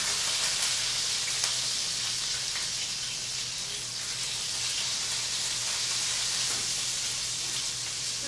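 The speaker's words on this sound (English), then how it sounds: "So those meatballs are almost done, and we're going to saute our lovely vegetables for a little bit longer" Meatballs and vegetables sauté in a pan for Italian wedding soup, giving a steady, close, even sizzle with a constant hiss and faint crackles, no one speaking.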